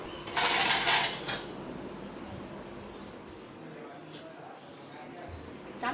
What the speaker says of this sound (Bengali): চামচ নিয়ে নিলাম, লাড়া দিতে হবে।